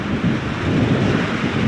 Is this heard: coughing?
no